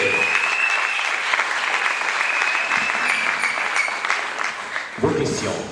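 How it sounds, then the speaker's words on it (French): A room applauds for Maman Kabato at a talk on the polluter-pays principle: loud, sustained clapping from a crowd, continuous and close, with a brief voice breaking through near the end. "On applaudit pour Maman Kabato"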